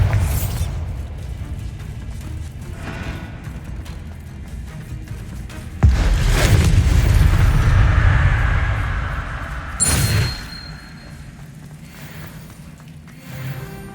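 A Bombarda explosion spell cast in the Hogwarts Legacy video game, with loud booming bursts around six and ten seconds over a rumbling game soundscape, no talk.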